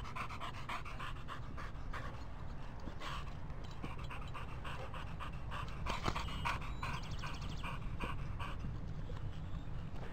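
Dogs panting rapidly and steadily, close by, with a faint whimper or two mixed into the continuous breathy rhythm.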